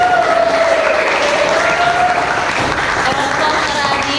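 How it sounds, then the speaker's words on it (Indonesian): Sustained applause for a presenting group during a class session, a dense, steady clapping that holds at even loudness for the whole stretch, with a voice audible faintly beneath it. "Oke, kita kasih tepuk tangan untuk kelompok"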